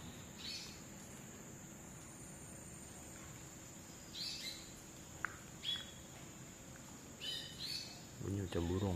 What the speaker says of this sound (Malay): mungkin burung lah. Burung layang-layang.